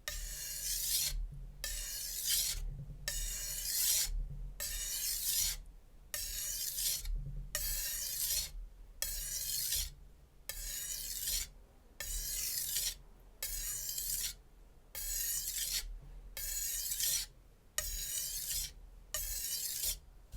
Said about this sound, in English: just keep in mind with stropping, you really don't need to apply any pressure